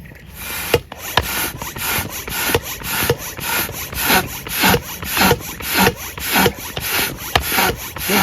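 A hand pump inflates an inflatable tent with repeated rhythmic strokes, each a rasping whoosh of air, about one stroke every half second, close and steady.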